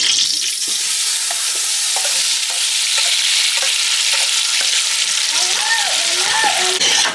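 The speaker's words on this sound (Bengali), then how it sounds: "তেলে তেজপাতা ভেজে ম্যারিনেট করা গোস্ত এবং আলু ঢেলে দিলাম।" Marinated meat and potatoes hit hot oil with fried bay leaves, producing a loud, dense, continuous sizzle with scattered sharp crackles and some scraping, close up.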